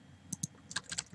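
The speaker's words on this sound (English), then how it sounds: "Typing" Keyboard typing in the chat game Emily Is Away: a quick pair of key clicks, then a brief flurry of several faster keystrokes, close and quiet against near silence.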